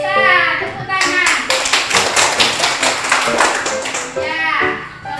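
A classroom of children claps hands in a run of sharp, rhythmic claps after someone speaks, with young voices talking before and after the clapping.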